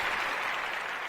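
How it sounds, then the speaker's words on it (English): A short, steady wash of applause for a brief moment, even and moderately quiet, with no voices over it. "I appreciate the applause"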